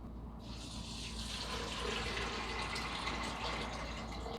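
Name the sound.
water poured into a pan of soaked beans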